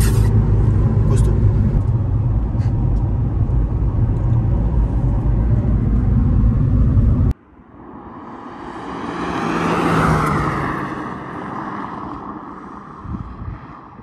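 A Nissan 350Z with a naturally aspirated 3.5-litre V6 drives loudly for about seven seconds, deep and droning, then the sound cuts to a lighter rushing engine that swells and fades, with wind buffeting throughout.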